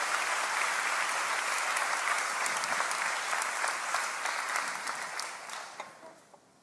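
Congregation applauding during a Brazilian Christian sermon, a full, dense round of clapping that holds strong for several seconds, then gradually thins and fades out near the end.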